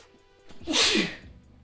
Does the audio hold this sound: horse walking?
no